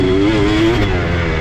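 Engine detonation in a 2007 Kawasaki KX250 dirt bike that sat for two years, heard as a close, loud, rough engine drone with an uneven knocking edge over a brief stretch.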